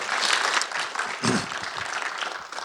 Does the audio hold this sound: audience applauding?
yes